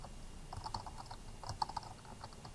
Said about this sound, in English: So I'm going to type my list